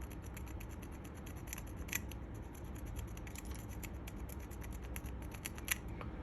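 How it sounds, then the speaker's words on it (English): A sharpened plastic chopstick scrapes corrosion off an aluminium surface, giving a faint, steady scratching with a couple of sharper clicks along the way. "get a chopstick, sharpen it, not too sharp, and then slowly just scrape off"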